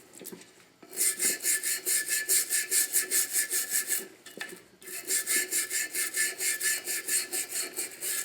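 A tool scrubs gunk out of the grooved channel of a Chevy Cavalier valve cover with quick, rhythmic back-and-forth scraping strokes, close and fairly loud, with one brief pause partway through.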